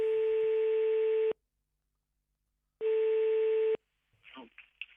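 Telephone ringback tone as a call is placed to a physiotherapist in the Tarn, two long steady rings separated by a pause, then a brief faint rustle or pickup noise at the end.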